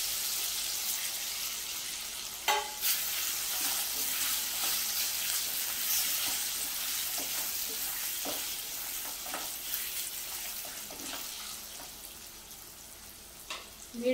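Pieces of amla sizzle and are stirred in a pan with turmeric, coriander powder and red chilli over low to medium flame, a steady close frying hiss broken by occasional scrapes and knocks of the spoon.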